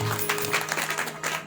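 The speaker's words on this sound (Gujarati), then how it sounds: "એક ફરું જોરદાર તાળીઓથી વધાવો હિતેશભાઈ ગોઠી" Audience applause at a gathering, a dense steady patter of many hands clapping for the whole short stretch, close and moderately loud.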